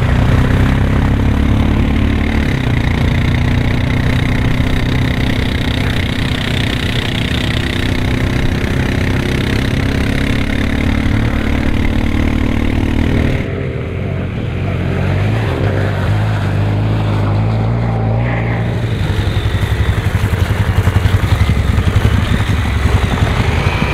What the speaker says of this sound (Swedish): ska ha provkörning på 1200X och 700X äventyrsmaskiner på is